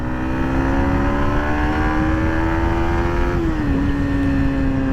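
A Yamaha MT-15 V2.0 motorcycle engine pulls hard in third gear, a loud, steady rising tone heard close up with a brief dip near the end, with no talking.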